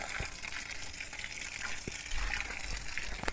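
Water poured over a Venesta vine plant in a garden gives a steady splashing gush, with occasional soft thuds and a slightly heavier surge near the end, no talking.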